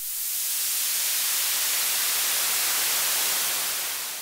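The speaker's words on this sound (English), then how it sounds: "There's the 1-pole high pass." White noise passes through a Doepfer A-106-6 XP filter in 1-pole high-pass mode, a steady bright hiss with the lows thinned out, continuous and even for several seconds without talk.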